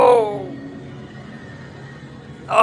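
A horse neigh sound effect bursts out loudly at the start and fades into a quiet background hum during a simulated baseball game broadcast, followed by a brief louder noise at the end.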